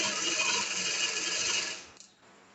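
A sewing machine stitches the shoulder seam of a shirt, a steady dense mechanical whir running loud and close for about two seconds before cutting off abruptly into quiet.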